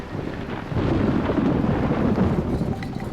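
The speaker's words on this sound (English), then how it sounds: "I've never seen rain like it, flooding through the roof of the cabin." Heavy rain and rolling thunder from a storm at sea, heard from a boat cabin with water flooding through the roof; a dense, steady roar that swells louder after the first second and holds, with no voices.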